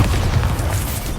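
Bombarda blasting spell in Hogwarts Legacy, a single short, deep, booming explosion that fills the whole moment.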